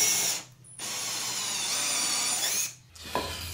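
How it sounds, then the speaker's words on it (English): A power drill with a 1/8 inch bit bores pilot holes into wood for a fire pit bench frame, two close, sustained whirring runs, each ending in a short pause, with a light clunk at the end. "I'm drilling about 1/4 inch into to the wood."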